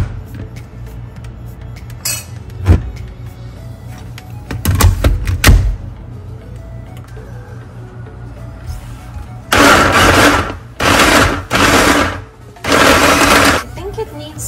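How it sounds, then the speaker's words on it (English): A blender purees chickpeas and dates into brownie batter in three loud, roaring pulses near the end, after some earlier clinks and knocks in a home kitchen. "So time to blend this dish up."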